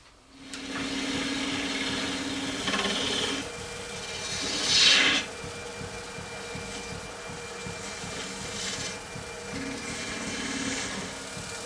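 Lathe spinning an ABS plastic ornament bulb as it is tapered, a steady motor hum with a rising rasp of the tool cutting partway through.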